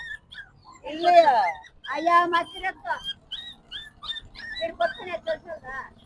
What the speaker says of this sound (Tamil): ஏய் கத்தினுக்குது, என்னடா இங்க குட்டி நாய் எங்க மாட்டினுக்குது பாருடா